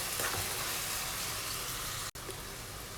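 Chopped onions fry in a pan with a steady, close hiss and crackle that runs unbroken except for a brief cut near the end.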